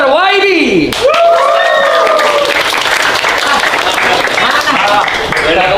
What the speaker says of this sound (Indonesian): Boleh kita sambut dan tepuk tangan yang paling meriah untuk Mr. Waidy.